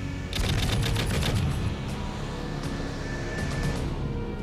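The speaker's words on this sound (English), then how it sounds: "Give warning burst with cannon" A rapid warning burst of loud aircraft cannon fire, a quick string of sharp reports in the first second or so, followed by a lingering rumble.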